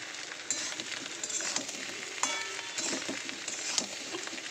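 Spices, turmeric and dried red chilies frying in a pan for a dry chorchori, a continuous close sizzle broken by repeated scraping stirs at a steady rhythm.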